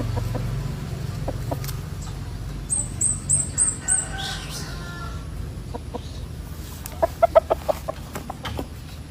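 Chickens clucking nearby in short bursts, a run of quick repeated calls midway and a sharper cluster of clucks near the end, over low background rumble.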